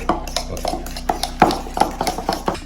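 A spoon stirs burger sauce seasoned with paprika in a bowl, producing a quick run of close, sharp clinks and scrapes against the bowl.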